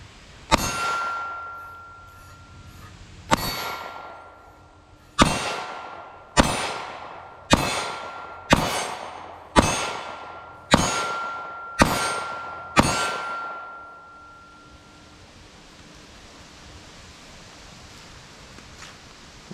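A Taurus GX4 pistol fires nine sharp shots at a range, the first two spaced apart and the rest in a quicker steady rhythm, each crack ringing off loudly before quiet returns.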